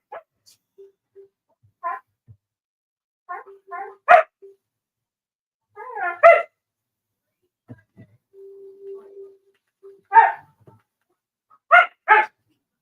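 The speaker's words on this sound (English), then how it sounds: "And I got a dog barking in the background." A dog barks in the background of an indoor live stream, short yelps and whiny barks arriving in scattered bursts, some louder and some muffled, with quiet stretches between them.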